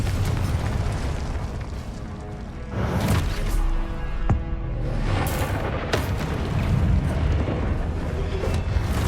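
Confringo fire-blast spells from Hogwarts Legacy erupt in booming bursts, several explosive hits with crackling fiery rumble in between, loud and close with no talk.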